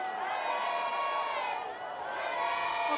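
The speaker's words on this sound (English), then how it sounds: "The crowd's going wild." Spectators cheer and shout at a freeride ski competition at Baqueira Beret, a dense, steady roar of voices that rises and falls, heard at a distance.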